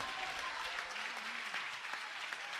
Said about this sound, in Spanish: Dale un aplauso a Cristo, que Él se lo merece.